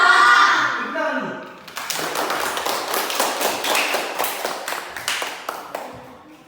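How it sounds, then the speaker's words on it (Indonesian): A classroom group claps hands together during a lesson, a burst of many quick overlapping claps lasting several seconds, following a brief stretch of a teacher's voice. "Tepuk tangan dulu."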